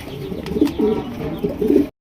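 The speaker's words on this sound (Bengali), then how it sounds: "এখানে রয়েছে চমৎকার একজোড়া কালদম কবুতর দেখতেই পাচ্ছেন" A pair of Kaldom pigeons coo repeatedly in soft, low throaty rolls, close by, with a few faint knocks in the background.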